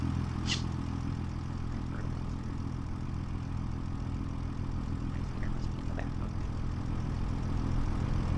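Tractor in the video game Farming Simulator 25, a low steady engine rumble idling evenly throughout, close and continuous, with only a couple of faint clicks over it.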